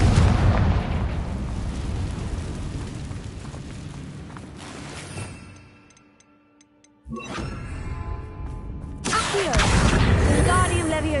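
A Confringo fire spell in Hogwarts Legacy bursts into a loud explosion that decays into a rumbling tail, drops to near silence, then fresh crackling and blasts surge back; a voice speaks over parts.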